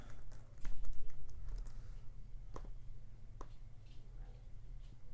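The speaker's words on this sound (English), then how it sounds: "Just type my blog in there" Someone types on a computer keyboard up close, a burst of quick clicking keystrokes followed by sparser, irregular taps over a low background hum.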